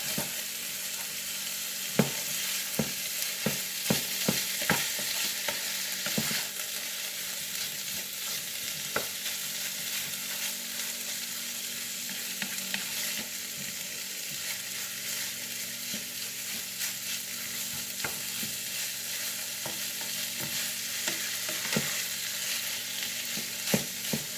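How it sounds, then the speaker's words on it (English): Ground beef sautés in a pan for shepherd's pie, a continuous close sizzle and crackle with scattered clicks and scrapes of stirring throughout. "So we're going to saute this until cooked."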